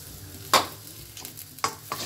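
Stir-fried vegetables in a wok with a little oil: a few sharp scraping, tossing clatters stand out over a soft, low sizzle, spaced irregularly across a short stretch with no talking.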